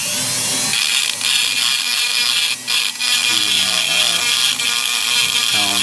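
Power tool grinding and sanding curb rash off a car wheel, a steady loud whirring abrasive drone with brief dips, running alone without talk.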